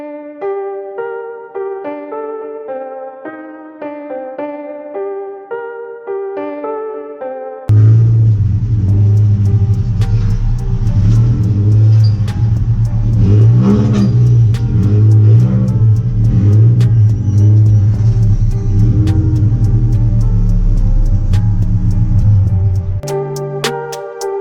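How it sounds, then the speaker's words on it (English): After a few seconds of piano music, a daily-driver car rumbles loudly close by as it is driven out of a driveway, its engine drone steady and heavy throughout before cutting off near the end. "So we're gonna take my daily driver out the driveway."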